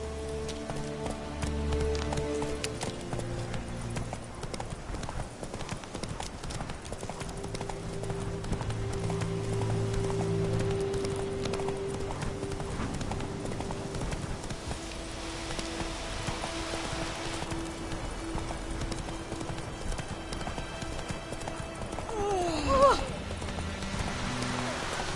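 Hooves of a galloping horse in The Witcher 3 video game thud steadily under game music and rain-like ambience, with voices speaking at moments over the running.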